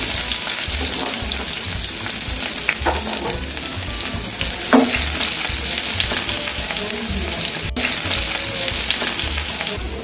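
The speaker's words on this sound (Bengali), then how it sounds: "এখন আমি সবজিগুলো বাগার দিয়ে নেব।" Mixed vegetables and chopped onion fry in hot oil while being stirred, with a loud, steady sizzle running throughout and a few soft scrapes.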